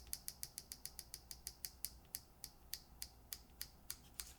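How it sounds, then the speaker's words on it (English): An over-lubricated keyboard stabilizer being pulled apart gives a quick series of small sticky, tacky clicks, about twenty evenly spaced snaps close to the microphone with no talking. "as you pull the stab up, it separates, creating this like suction sticky effect"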